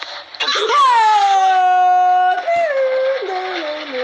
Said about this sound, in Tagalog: Ano yung sumigaw na yun?